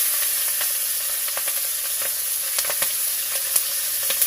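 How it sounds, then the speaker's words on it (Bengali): Whole cumin, chopped green chili and onion fry in hot fish-frying oil, a steady close sizzle with scattered pops and crackles throughout. "তো এই মাছ ভাজা তেলের মধ্যেই আমি গোটা জিরে ছেড়ে দিলাম।"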